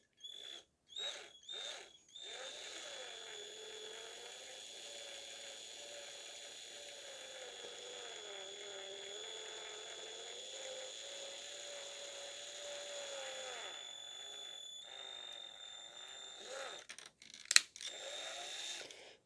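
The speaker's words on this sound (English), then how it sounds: "I'm going to drill into this T-piece right at the top" A small drill bores into a plastic T-piece, whining steadily for about ten seconds, its pitch wavering slightly, with a few clicks and knocks before and after.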